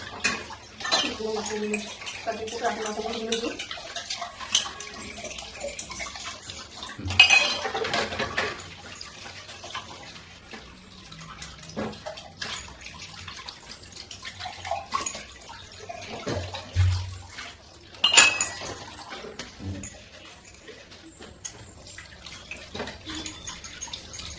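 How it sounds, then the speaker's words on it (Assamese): Household dishes and utensils clatter and clink under running water from a tap, with intermittent splashes, scrapes and metallic knocks at close range, and a voice speaking briefly at the start. "হৈ গ'ল ঘৰৰ বাচন বৰ্তনখিনিও ধুলোঁ"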